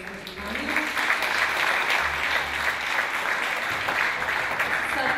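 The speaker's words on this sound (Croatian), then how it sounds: "još jednu pljesku za Krapinsko-Zagorsku županiju" Sustained audience applause fills the hall at a children's folklore festival, loud and steady throughout with dense clapping and no break.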